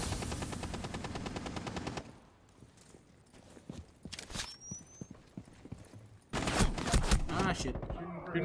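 Gunfire in the video game Rainbow Six Siege: a rapid automatic burst at the start, a quieter stretch with scattered shots, clicks and footsteps, then another loud dense burst near the end, with a voice talking in between.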